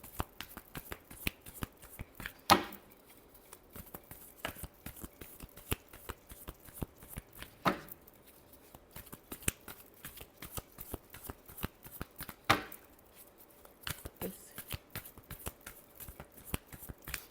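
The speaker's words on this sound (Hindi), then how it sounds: "Last shuffle." Tarot cards are shuffled by hand in quick, soft riffling bursts with occasional sharper snaps, close by but quiet, repeating throughout.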